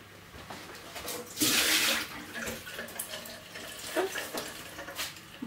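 Running tap water pouring over a soapy lid being rinsed in a kitchen sink, a close splashing gush that swells loudly for a moment then settles into softer trickling.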